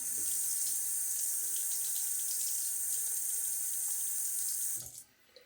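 Steady running water from a tap splashing into a sink during a shave, close and continuous, then abruptly shut off near the end.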